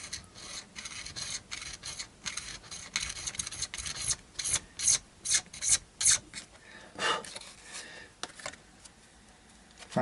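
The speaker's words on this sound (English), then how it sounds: "We have to go in with a little bit of sandpaper or something just to level this out." Sandpaper rubs across a Fender Modern Player Telecaster pickup in quick back-and-forth strokes, with a rhythmic run of louder, evenly spaced scrapes in the middle before it slows to lighter rubbing.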